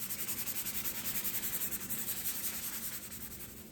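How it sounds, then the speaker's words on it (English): A tack cloth wiped back and forth across a painted wooden sideboard, a rapid rhythmic rubbing swish repeating steadily at close range, with no talking. "These are my favorite tack cloths."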